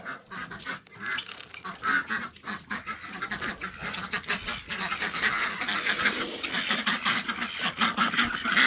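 Ducks and chickens at feeding time on a rainy mesa farm, a dense chorus of quacks and clucks with flapping and shuffling, close and getting busier toward the end.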